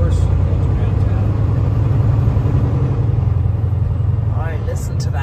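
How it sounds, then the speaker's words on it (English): Engine of a 2024 Kenworth truck driving along a highway in traffic, a loud, steady low rumble heard from inside the cab, with a voice speaking briefly near the end. "All right, listen to that powerful engine."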